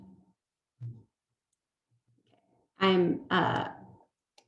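A computer mouse clicks a couple of times in quick succession while working in SolidWorks CAD software, soft and close, followed by a person speaking.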